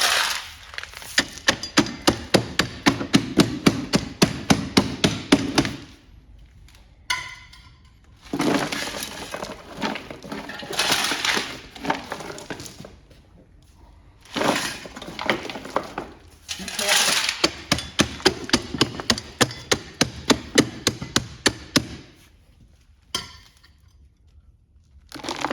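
Repeated rhythmic tamping of fill into stacked retaining wall blocks, sharp regular impacts in long bursts separated by pauses, close and loud with no talk.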